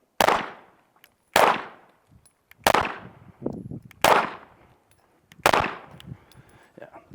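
Five loud pistol shots fired round for round from a Springfield Echelon 4.0 Comp and a Tisas PX9 Duty Comp at an outdoor range, each a sharp close crack with a ringing tail, spaced about a second and a half apart, with faint clinks between.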